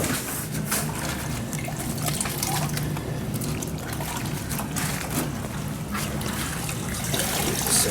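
Clean water trickles and splashes steadily at close range for several seconds, a continuous dribbling wash used for cleaning during a modular fire pit assembly, with faint talk underneath.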